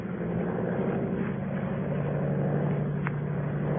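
A monoplane engine drones steadily as the aircraft climbs into the evening sky, a continuous propeller hum in a radio drama, with no voices over it.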